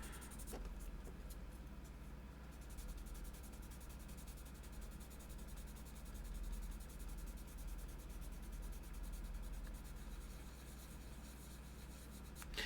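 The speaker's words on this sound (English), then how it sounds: "let's go in with our sandpaper. This is our coarse sandpaper, probably about 400 or so" Coarse sandpaper, around 400 grit, rubs in a fast steady scratching rhythm that is quiet and continuous throughout.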